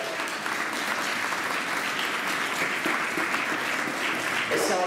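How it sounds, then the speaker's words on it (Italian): Audience applause at a 2019 living nativity scene in Panettieri, a steady dense clapping that fills the scene, with faint voices mixed into the crowd noise. "e facciamo applauso."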